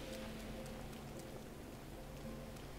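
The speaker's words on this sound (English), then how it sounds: "the rain in this game just, it doesn't add difficulty, it just makes you wait" Rain falls in the video game Breath of the Wild as a faint, steady hiss that continues without a break under a soft background hum.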